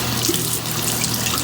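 Tap water runs steadily into a sink as a makeup brush is rinsed under it, a loud, close, even splashing rush with no break.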